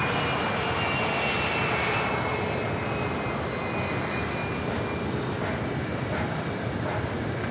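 A United airliner lands at LAX with thrust reversers engaged, producing a loud, continuous broadband engine roar that holds steady throughout without pause.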